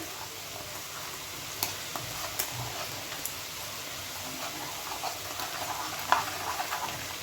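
Spice mixture stirred in a frying pan for keema pasta, with a soft steady sizzle and faint scraping ticks of the spoon, close and fairly quiet throughout.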